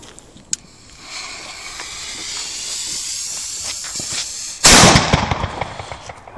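A Weco cube-shaped cannon cracker firecracker fuse hisses and fizzes with small crackles, building for several seconds before a loud burst of bangs and crackling, fairly close.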